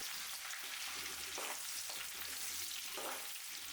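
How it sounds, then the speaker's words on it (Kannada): Mustard seeds, cumin, chopped onion and curry leaves fry in oil, giving a steady, dense sizzle that fills the whole stretch, with two brief stirring scrapes rising above it. Close by, no voices. "ಕುಯ್ದಿಟ್ಕೊಂಡಿರೋ ಈರುಳ್ಳಿ, ಕರಿಬೇವು ಹಾಕಿ ಎಣ್ಣೆಯಲ್ಲಿ ಚೆನ್ನಾಗಿ ಫ್ರೈ ಮಾಡ್ಕೊಳ್ಳೋಣ"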